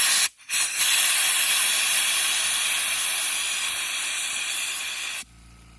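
A VEVOR walnut shell blaster sprays a rusted screw with a loud, steady, close hiss of air and grit that runs for about five seconds after a brief sputtering start, then cuts off abruptly.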